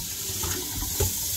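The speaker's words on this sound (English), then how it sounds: "You want to run some cold water over these, you want to just wash them off as good as you can." Cold water runs steadily from a faucet into a sink as cured bacon slabs are rinsed under it, a close, loud, continuous splashing rush with slight surges and no talk.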